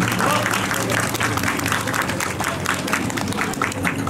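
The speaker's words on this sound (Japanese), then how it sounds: "今一度拍手を持ってご声援いただきますようよろしくお願い申し上げます" An audience applauds a dance team, the Kamikawa Hanashibuki group from Asahikawa, before it performs, with dense continuous clapping that holds at a steady level throughout.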